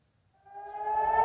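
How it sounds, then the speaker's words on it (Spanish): An air raid siren sounding in southern Israel, a steady wail swelling up from silence and growing louder within about a second. "Las sirenas sonaron en el sur de Israel cuando militantes palestinos dispararon más de un centenar de misiles en respuesta"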